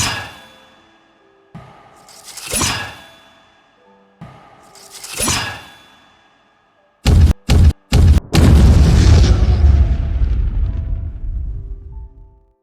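Landmine blast in an Indian film: a few soft rumbling swells first, then several sharp cracks followed by a loud, broad roaring explosion that slowly dies away.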